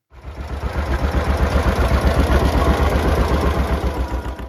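A John Deere Model A tractor engine runs steadily at close range, a loud, continuous low-pitched rumble with a rhythmic throb, starting abruptly and holding even throughout with no voices.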